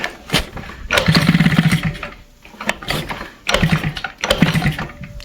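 A Peugeot 103 SPX moped is kick-started repeatedly: mechanical ratcheting and brief sputtering engine bursts in three or four separate attempts, close and fairly loud, with pauses between tries.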